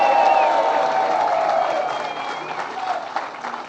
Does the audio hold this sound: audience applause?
yes